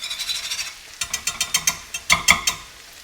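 Whisk scraping and clicking through cream cheese being loosened into a risotto pan, a run of quick rhythmic strokes, then a pause and a second burst of sharper, louder taps against the pan, close and with no voices.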